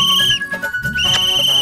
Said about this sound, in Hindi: अरे आप सीटी मत बजाइए, अब आप सीटी बजाएंगे तो सीटी अंदर तक चली जाएगी